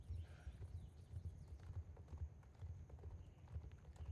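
Rhythmic clip-clop of a horse's hooves from the online riding game Star Stable Online, a quick, steady beat at low volume, with faint game sounds in the background.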